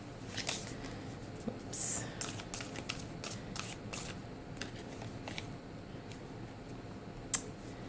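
Spirit animal oracle cards being shuffled by hand at close range, a run of soft papery riffles and flicks with a few sharper snaps, heard alone with no talking.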